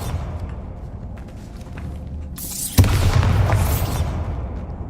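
In the video game Hogwarts Legacy, a Bombarda spell goes off: a brief rising whoosh leads into a sharp burst, followed by a sustained crumbling rumble at moderate loudness.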